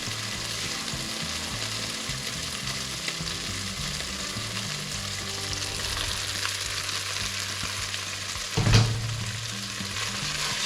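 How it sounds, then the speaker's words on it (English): Onions tossed into a hot pan of browned meat for a meat and potato pie hiss and sizzle steadily and close up, with a louder surge of frying and stirring near the end. "so I'm going to add the onions."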